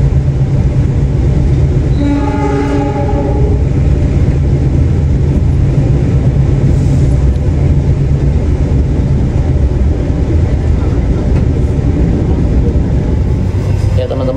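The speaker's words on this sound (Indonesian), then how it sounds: "udah mesinnya udah throttle lagi" Interior of the KA Argo Dwipangga passenger train with a steady, loud low engine drone and rumble as the locomotive throttles up while running, a brief horn-like tonal burst near the start, and faint talk under the noise.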